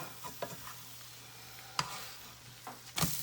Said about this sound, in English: here we'll just put some ghee and cook it nicely till it becomes nice brown